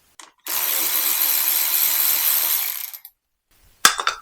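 A power driver backs out a trim screw on an Aprilia RS660 motorcycle: a loud, steady whir lasting over two seconds, then after a pause a few sharp close clicks and rattles.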